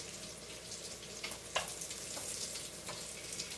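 Sausages, brown rice and pear zucchini strips warm together in a pan with a steady, soft sizzle and a few light clicks of a utensil, with no voices.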